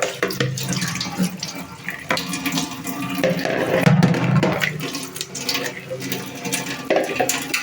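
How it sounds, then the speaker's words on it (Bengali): Tap water splashing forcefully onto dishes in a sink during dishwashing, a continuous loud spattering rush with irregular clatter, close by, with no talking. "চাক করে পানি ছিটে যাচ্ছে"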